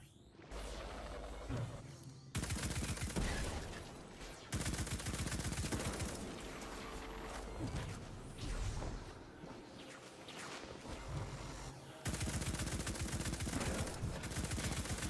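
Sustained bursts of automatic gunfire from a heavy-recoil weapon in a video game, loud and dense, with brief pauses between long volleys.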